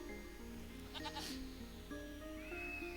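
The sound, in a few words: goats bleating in a video game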